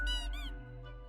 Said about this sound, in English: The toy gives out a sad noise as you make your way out the door.